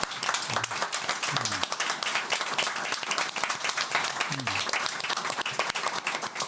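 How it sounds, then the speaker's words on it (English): Audience at a veterans' event applauding warmly, a sustained crowd clapping that stays loud and even throughout, with a few faint low voices murmuring underneath. "So a warm hand of applause to everyone."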